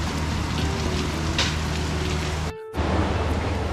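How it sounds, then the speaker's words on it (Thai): Heavy evening rain pours down in a steady, dense hiss outdoors near a hillside, loud and constant, with a brief dropout before the downpour resumes. "ฝนตกแรงจริง"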